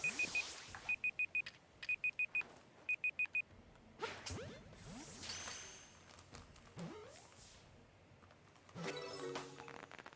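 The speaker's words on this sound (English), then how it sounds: "I'm using Google's timer and it must have had a beeping." A Google phone timer beeps in several quick clusters of high electronic tones near the start, then falls silent, leaving scattered rustling and whooshing handling noises.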